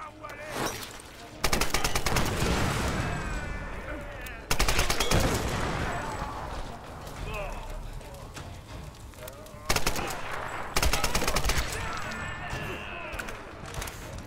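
Rifle fire in Tomb Raider (2013), set in a slum level: several loud bursts of rapid shots come in separate clusters with quieter gaps, and a voice talks between them.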